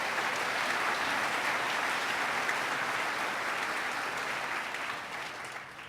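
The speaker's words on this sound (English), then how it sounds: "Let's give him another round of applause." A large audience at a governor's State of the State address claps in sustained, dense applause that holds steady and then fades slightly toward the end.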